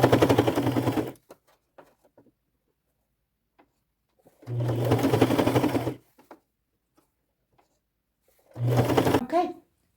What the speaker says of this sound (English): continue sewing until I get to the bottom on the opposite